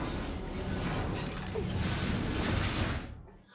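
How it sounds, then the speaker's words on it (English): A heavy mechanical door grinds and whirs open in a sci-fi setting, a steady dense rumble with creaking gear-like texture that trails off near the end. "Open the door."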